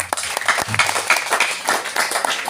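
Applause from the gathered crowd at a Maulid Nabi celebration in a housing complex, a brief burst of dense clapping that swells and fades over a couple of seconds.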